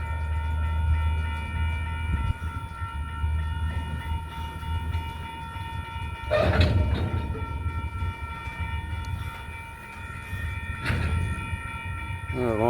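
A freight train rolls backwards after a hard stop, giving a steady heavy rumble with a loud clanking bang partway through and another metallic knock later on.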